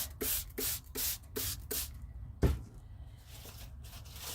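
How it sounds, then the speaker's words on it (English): Several short hissing sprays in quick succession from an aerosol can onto a crinkled plastic bag, close by, followed by a thud and quiet rustling. "Then spray that part of the bag."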